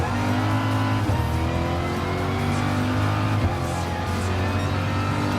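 A Gr.3 race car's engine drones loud and steady through a double chicane at Le Mans in Gran Turismo Sport, with shifting revs and tires squealing, close and continuous throughout.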